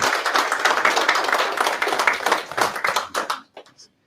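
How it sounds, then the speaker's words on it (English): An audience at a financial seminar event claps for a guest, a brisk burst of many hands that thins into a few scattered claps and fades out near the end. "You can give him a round of applause."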